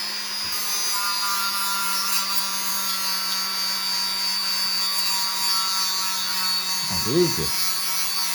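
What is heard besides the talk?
rotary tool grinding a knife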